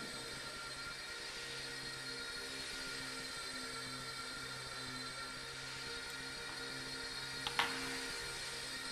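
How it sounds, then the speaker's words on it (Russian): A small model helicopter runs steadily indoors, its motor a constant high whine with a pulsing rotor drone, close and continuous throughout, with one brief sharp tick near the end. "Вот основной плюс вот этих маленьких вертолетов, они очень тихо работают."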